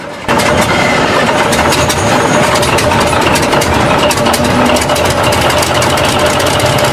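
A Paxman V12 diesel engine rated 450 to 1,000 bhp running loud and close, a dense, rough, continuous rumble with rapid knocking pulses that holds steady throughout, with no other sounds.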